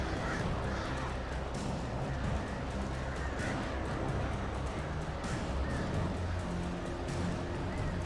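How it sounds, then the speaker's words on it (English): Crows caw and flap in a dense, noisy swarm during an attack in the game Alan Wake Remastered, a continuous rough clamour of harsh calls over a loud game soundscape. "Oh gosh, not the birds."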